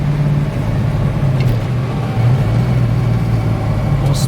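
A 1965 Ford Mustang coupe, fully restored, driving on a windy Iowa road, a steady low engine drone with slight pitch shifts, close and continuous with no talk.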